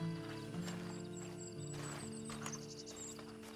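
A horse in the Red Dead Online video game, with soft hoof clip-clops and a brief whinny over a steady musical game soundtrack, close and moderately loud throughout.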